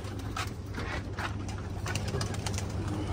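Pigeons at a loft coo in soft repeated throaty calls over a steady low background hum, fairly close and without talk.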